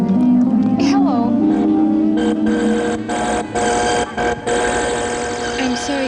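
A household telephone rings in repeated electronic bursts, loud and close, with people talking over and between the rings.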